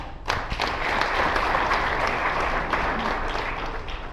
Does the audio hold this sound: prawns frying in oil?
no